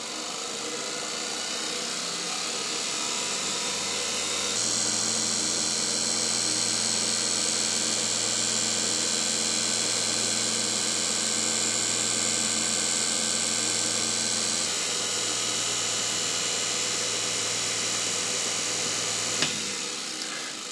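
A Zelmer type 300 vacuum cleaner motor, rebuilt and run on a 24-volt transformer, starts after a few quiet seconds and whirs with a steady high-pitched hum for about fifteen seconds before cutting off.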